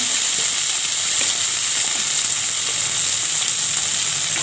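Chopped onion frying in hot oil gives a loud, steady sizzle with a hiss throughout, no pauses and no voices.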